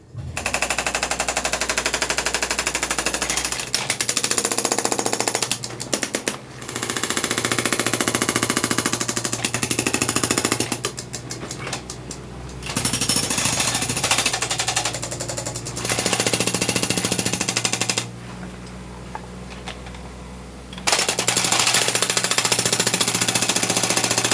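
A hydraulic excavator breaker hammers rock inside a house being built in the mountains: loud, continuous rapid pounding in long bursts, broken by a few short pauses.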